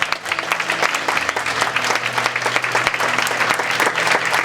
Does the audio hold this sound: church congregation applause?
yes